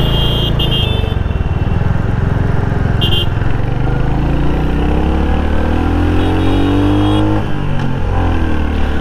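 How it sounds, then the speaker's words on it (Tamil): A 2025 Royal Enfield Hunter motorcycle with slipper clutch assist drones loudly and steadily as it downshifts, engine pitch sweeping and shifting through the gear changes, with a few faint high clicks over the continuous exhaust note. "நான் கியர் டவுன் பண்ணியுமே வந்து காட்ட போகிறேன்."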